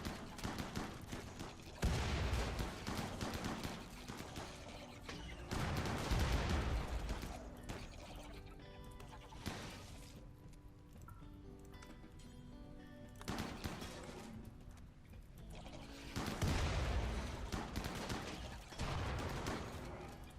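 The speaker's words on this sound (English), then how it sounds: "They're forced through the fire and explosions before they get here." Gunfire and grenade explosions in the video game Rimworld during a base defense against bugs, dense bursts of shots and booming blasts rising and falling in waves over twenty seconds, with no speech.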